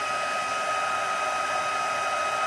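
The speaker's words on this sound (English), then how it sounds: "let's hit it with this emboss with a heat gun" Continuous roaring airflow from a heat gun blowing hot air for heat embossing, even and loud with a thin high-pitched whine throughout, no voices.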